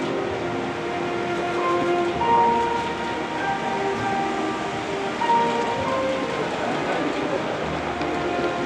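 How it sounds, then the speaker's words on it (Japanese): A model train runs at a model railway exhibition in a shop, giving a steady, close rolling rumble with faint rail clatter and some hum, continuous throughout with no voices. "ただいま最終列車を運転しております。"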